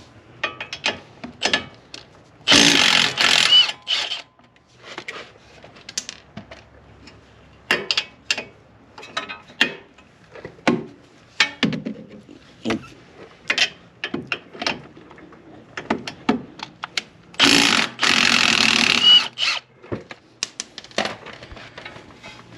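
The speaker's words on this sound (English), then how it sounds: "so only loosen from the nut side. And I'm going to hold this side with a wrench" A wrench works on a coilover nut of a Chevrolet Equinox, with rapid bursts of ratcheting clicks and metallic clanks coming in irregular short runs, close and fairly loud.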